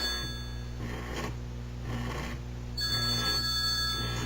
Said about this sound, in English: I got interrupted by a phone call, obviously.